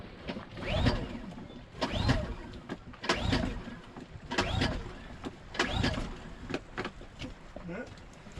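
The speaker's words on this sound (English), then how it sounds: "turn the engine start on, and we'll give her a pull and see what happens" A boat engine is pull-started by its recoil cord, with repeated rasping pulls about once a second and the engine not catching while fuel is still working through.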